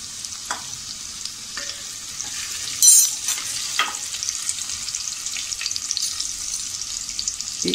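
Browned onion frying in a pan as ginger-garlic paste is added while cooking masoor rice, a steady hiss of sizzling oil with scraping stirs and a brief louder burst midway.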